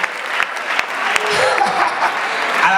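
A conference crowd in Lagos claps in celebration, steady broad applause with a few louder individual claps early on and some light laughter mixed in near the end.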